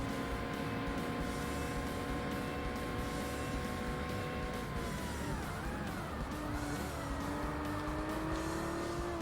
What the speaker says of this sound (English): This car needs a louder engine.